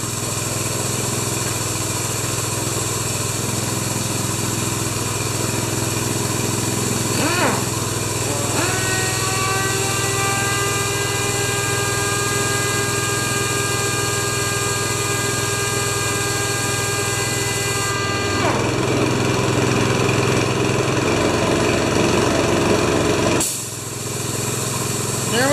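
A Honda engine on a wheelbarrow air compressor runs steadily and loudly throughout, its pitch shifting as the throttle drops back and a tonal whine rises midway, then a brief dip near the end.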